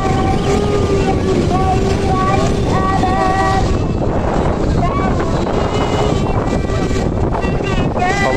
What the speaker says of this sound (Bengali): দেখেন ভাই, এই ট্রেনটি নরসিংদী চলে আসলো।